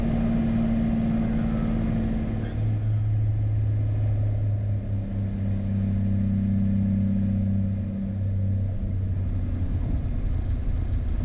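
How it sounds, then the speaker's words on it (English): A steady Beechcraft Bonanza engine drone with a low tonal hum that shifts pitch partway through as the engine runs down on approach, holding loud and continuous with no voices. "I'm just now hearing the engine run down"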